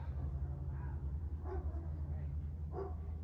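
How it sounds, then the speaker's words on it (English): A dog barks about four times, fairly faint and set back from the listener, over a steady low indoor hum during a lower-body workout session. "Here goes Buddy barking for us"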